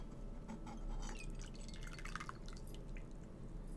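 Hot water pours into a tea filter holding loose leaf tea, a soft continuous trickle and patter of liquid filling a vessel, faint and close over a quiet background.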